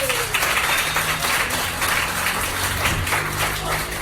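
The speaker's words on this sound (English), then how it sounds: "Please give yourselves a round of applause." An audience applauds steadily throughout at a podcast recording event at the RVT, a dense even wash of clapping with no pauses.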